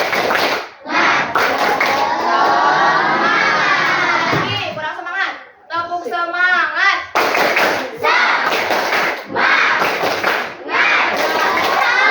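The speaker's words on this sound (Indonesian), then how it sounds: "kalian coba tepuk semangat dulu, bisa?" A grade 7 class does a rhythmic spirit clap, repeated bursts of clapping in a patterned beat, with children chanting together and a teacher's voice in between.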